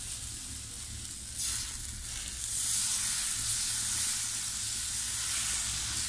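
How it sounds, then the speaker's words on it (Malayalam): Batter for vellayappam sizzles on a hot, oiled griddle; the steady hiss swells as the batter is poured and stays loud and close, with no talking. "ദോശക്കല്ല് ചൂടായപ്പോൾ ഞാൻ എണ്ണ തൂത്തിട്ട് അപ്പോൾ മാവ് ഒഴിച്ചു കൊടുക്കുകയാണ്"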